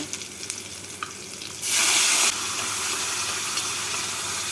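A wet spice paste hits hot oil already tempered with green chillies and cumin, bursting into a loud, close hiss that then settles into a steady sizzle.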